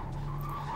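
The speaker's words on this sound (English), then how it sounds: "There's a car coming." A car comes close in a tense film scene, with a brief tire squeal and skidding whine over a low engine drone, heard faintly at a distance.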